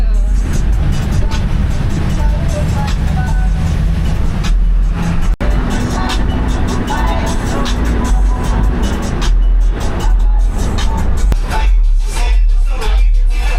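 An open-air bus drives along a road in American Samoa, its engine and road noise rumbling close and loud, with wind buffeting and faint voices underneath.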